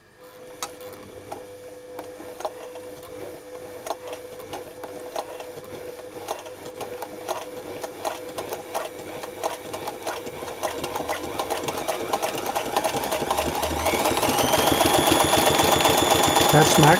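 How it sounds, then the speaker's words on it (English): A Singer Fashion Mate 237 sewing machine sews a zigzag stitch with heavy-duty thread, its rapid ticking clatter close and steady before speeding up into a louder, denser whir toward the end. "making some zigzag stitching, and just a forward stitch length of about 2 millimeters, and full zigzag it's about 4 millimeters."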